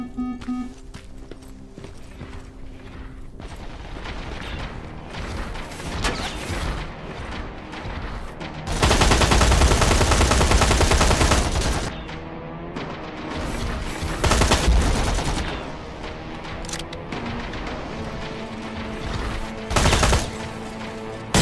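Gunfire in the Terminator: Resistance shooter game, scattered shots across the scene with a long, loud sustained burst in the middle and sharp single blasts later, mixed with clattering action sounds.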